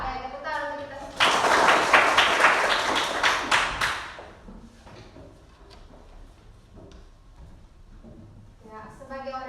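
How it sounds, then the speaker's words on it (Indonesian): Applause from a classroom audience: a dense burst of clapping lasting about three seconds, loud and close, then fading into quiet room tone, with voices speaking before and after it. "tepuk tangan untuk kita semua"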